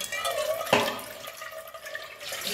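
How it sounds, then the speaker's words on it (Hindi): Something is rinsed under running tap water in a home kitchen, a continuous close splashing stream with a brief sharp knock partway through, and no talking. "अब इसको धो लेते हैं"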